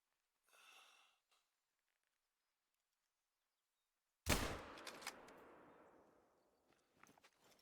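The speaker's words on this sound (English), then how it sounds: "Use a rifle and take it out from afar." A single loud rifle shot in theHunter: Call of the Wild cracks out after near silence and rolls off in a long echoing tail across open terrain; faint rustling comes before it.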